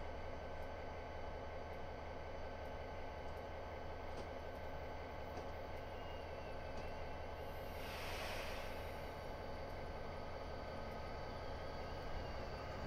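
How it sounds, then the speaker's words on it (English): A freight train rumbles past at a steady distance on the Cajon Pass line in a train simulator game, with a continuous low drone and a brief rise in hiss partway through, without any talk. "See another train over there going by again."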